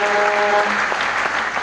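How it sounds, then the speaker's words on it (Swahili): A crowd at a church gathering in Bungoma applauds a speaker with loud, dense clapping that fills the space, briefly overlapping the tail of a voice. "Pigia mtumishi wa Bwana makofi."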